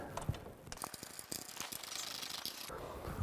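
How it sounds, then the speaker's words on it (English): Allen wrench turning bolts on a Wunderlich backrest and luggage rack fitted to a BMW K1600 Bagger, a rapid series of close, light metallic ratcheting clicks with brief pauses, no talking. "Allen wrench, you can actually get in at an angle to put these bolts in"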